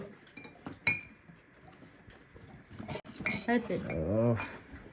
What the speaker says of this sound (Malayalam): ആറ് ഗ്ലാസ്